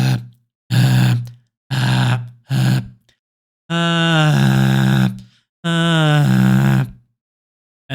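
A voice imitates a deep bass in a beatbox-style fake bass sound, with short buzzy low pulses followed by longer sustained humming bass tones, alone with no talking.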